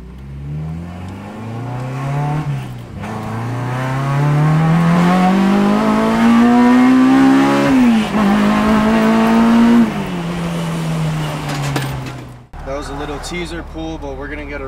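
A 2003 Acura RSX Type S with a built K20/K24 hybrid engine making about 300 wheel horsepower accelerates hard. Its loud, rising engine note climbs through the gears with brief dips at the shifts, heard up close from inside the car.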